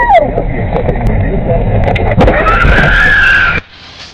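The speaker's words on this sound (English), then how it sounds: "I'm starting the car and I'm putting gas on that." A car engine revs and builds up under acceleration with a rising whine, loud and close inside the vehicle, then drops off abruptly near the end.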